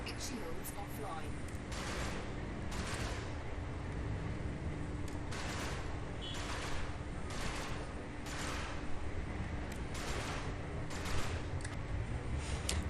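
Spaceship weapons firing during a bounty-hunting fight in a high-intensity resource extraction site in a space game, with repeated loud bursts of fire over a constant engine rumble.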